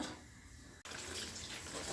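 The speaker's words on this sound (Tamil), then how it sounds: "காப்பிடி அளவுக்கு தண்ணி ஊற்றிக்கிறோம்" Water poured into a pot of moong dal (split lentils) being cooked for aval pongal, a steady rushing pour that starts abruptly after a brief pause and continues loud and close to the end.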